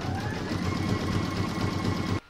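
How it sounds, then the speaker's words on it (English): An embroidery machine stitches a decorative edge on an in-the-hoop notebook cover, a fast, steady mechanical clatter that runs evenly and close for about two seconds before stopping abruptly. "I'm now going to put that into my machine and stitch round number 13, which is going to do the decorative stitching around the edge"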